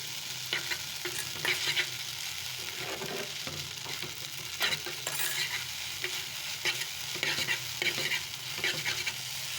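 Maggi noodles are stirred in a sizzling pan, with a steady frying hiss and soft repeated scraping stirs close by and no talking.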